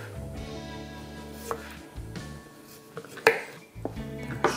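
Knife slicing radishes thin on a cutting board, irregular close taps and chops scattered through, over a low background hum with no talking.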